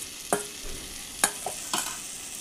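Crab stir-fried in a cooked-down red spice masala, with a steady faint sizzle broken by four sharp spatula scrapes and knocks, close up and with no voices.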